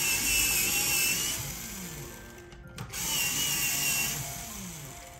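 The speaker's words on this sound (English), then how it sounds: "We're going to sharpen this with our electric sharpener." Electric pencil sharpener grinding a pencil, a steady, fairly loud whirring buzz that runs continuously, briefly stops, then starts again for a second stretch.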